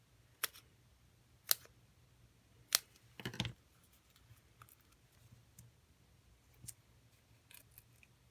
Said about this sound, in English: I'm going to just snip a couple pieces.